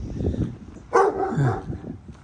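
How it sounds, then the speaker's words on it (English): A dog gives a single short bark at moderate distance, heard over low background rumble and faint voices. "There's a dog there."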